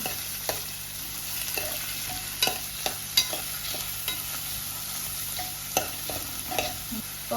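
Upma is stirred in a pan with a faint, constant sizzle and a string of scraping and tapping spoon strokes at an irregular rhythm, fairly close and without talk.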